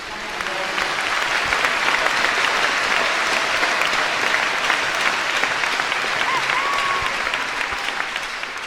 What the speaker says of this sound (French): clap for the Lord Jesus.